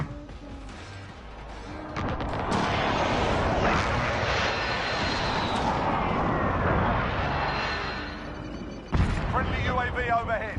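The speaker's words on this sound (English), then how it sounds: "Be advised, friendly precision airstrike inbound." A precision airstrike in a video game arrives as a swelling jet roar that sweeps overhead for several seconds, then cuts to a sharp, loud impact blast near the end.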